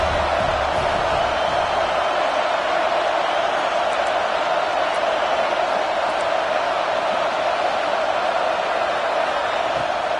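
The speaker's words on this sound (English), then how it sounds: "This crowd bringing the energy and noise early." A stadium crowd in the Madden 26 football video game roars as a dense, steady wall of noise, loud and unbroken throughout.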